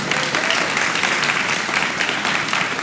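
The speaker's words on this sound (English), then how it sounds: "I think this is worth a round of applause. You guys need an applause." Outdoor ceremony crowd applauding at the Fowler Blossom Trail event, a dense, loud and even burst of many hands clapping throughout, with no voice over it.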